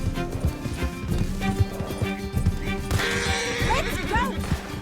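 A horse gallops in Red Dead Redemption 2 with steady rhythmic hoofbeats during a chase, mixed with shouting voices and game effects, and a sharp swell of noise near the end.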